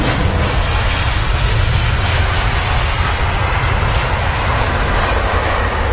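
A Boeing 787 Dreamliner jet at London Heathrow gives off a steady, loud broadband roar with a deep low rumble that holds evenly throughout, with no voices.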